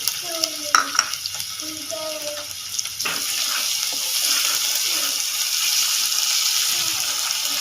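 Chillies, crushed garlic and ginger for brinjal bharta stirred in a pan, with a few clinks of a spoon at first, then a loud, steady frying sizzle close by.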